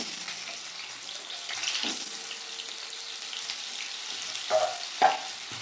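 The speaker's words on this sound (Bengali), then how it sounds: "তেল গরম হয়ে গেছে, আলুটা দিয়ে ভেজে নেব।" A steady hiss of potatoes frying in hot mustard oil, with a couple of sharp clinks of a utensil near the end.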